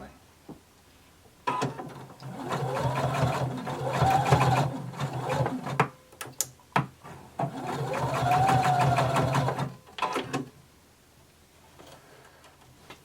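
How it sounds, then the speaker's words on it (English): A sewing machine runs in two long stitching bursts while a belt loop is sewn down, with clicks and handling noises before, between and after the bursts. It is close and moderately loud, and no one speaks. "I just want you to stitch down your belt loop to your side."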